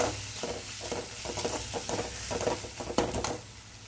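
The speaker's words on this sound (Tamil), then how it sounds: "டொமேட்டோ சாஸ் சேர்த்துட்டு நல்லா அது எல்லாத்தையும் பெரட்டி விட்டுக்கலாம்" Macaroni pasta being stirred with tomato sauce in a pan, a steady run of soft scraping and wet squelching strokes with a faint sizzle underneath, close and fairly quiet, with no talking.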